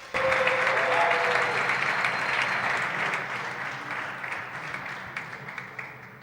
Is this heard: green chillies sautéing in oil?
no